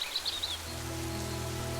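Rain falls in a Hindi cartoon story as a steady, even hiss, with a few chirps early on and a low sustained musical drone coming in beneath it.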